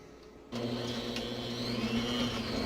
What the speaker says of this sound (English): Turn your mixer on